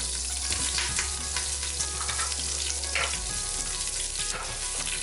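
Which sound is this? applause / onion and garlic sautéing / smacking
onion and garlic sautéing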